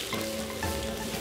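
Sliced ginger hits hot oil in a wok at the start of a Sichuan ants-climbing-a-tree noodle dish, giving a steady, dense sizzle with no voice over it.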